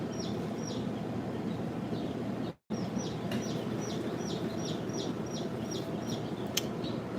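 Baby chicks and chickens peeping at a live hatching, with short high repeated peeps in quick uneven bursts over a constant background hum, broken by one brief dropout partway through.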